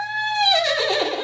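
A person's voice imitating a horse whinny, one short high neigh that falls and breaks into a rough quaver, close and clear.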